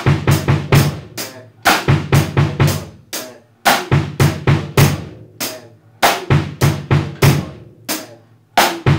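A close, dry drum kit loops a groove whose bass drum kicks land on the e, the and, and the a of beat two, set against regular snare backbeats and cymbal strikes in a repeating one-bar pattern.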